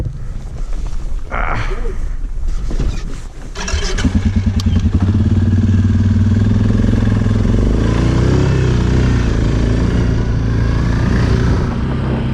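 An ATV engine revs up and settles into a loud, steady drone while riding the Paiute trails through aspen trees, staying close and continuous after a rougher, choppier start.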